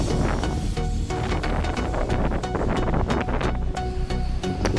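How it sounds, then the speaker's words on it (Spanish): Strong subtropical cyclone winds lash the small harbour at Imbituba, Brazil, producing a continuous, loud roaring buffet across the microphone with no pauses. "Ustedes ya pueden estar viendo las imágenes y el sonido del fuerte viento"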